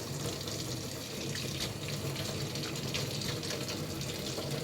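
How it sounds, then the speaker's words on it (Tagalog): A tap runs in a steady, continuous stream while hands are washed, a close and even splashing rush with no talking. "Maghugas mabuti ng kamay."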